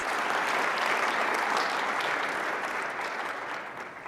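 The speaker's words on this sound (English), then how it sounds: "please join me in giving a round of applause to our panelists" A conference audience applauds a panel of healthcare leaders, a dense, steady wash of clapping at moderate distance that holds for several seconds before slowly tapering off near the end.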